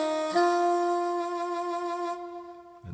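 A keyboard plays a single sustained note, held clearly and steadily for about two seconds before it cuts off. No one speaks.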